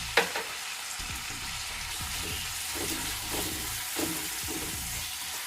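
Big chopped tomato hits hot tempering oil for rasam, giving a steady close sizzle and frying hiss with light scrapes of stirring throughout, no talk.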